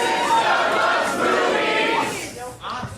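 A festival comedy audience cheers and applauds loudly in a dense, sustained roar with scattered whoops, fading slightly near the end.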